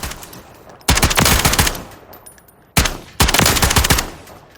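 A slow-firing gun with a 20-round magazine in Call of Duty Modern Warfare III lets off two loud, sharp bursts of automatic fire, each lasting about a second and a half, with a short pause between them.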